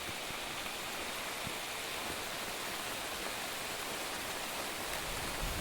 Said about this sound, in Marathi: बारीक बारीक पाऊस चालू झालो जोरात एकदम